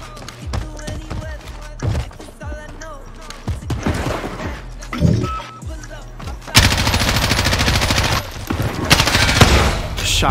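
Shotgun and rapid automatic gunfire burst out in a first-person shooter Search and Destroy match, loud cracks and rattling volleys, followed by a sustained dense roar of fire and explosions.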